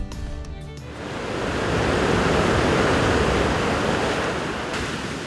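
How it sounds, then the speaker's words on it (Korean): Rough sea waves roll in and crash near Gageodo island during a storm warning, a broad continuous roar of surf building and lingering for several seconds with nobody speaking. "아니나 다를까 사나운 파도가 몰아치는데요."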